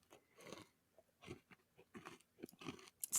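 Close, wet chewing of a chewy, crunchy homemade cookie, a run of irregular crunches and mouth sounds in bursts with short pauses between, loud and up front with no talking.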